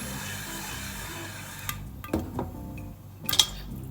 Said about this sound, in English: every 1 minute you have to shake the pan like this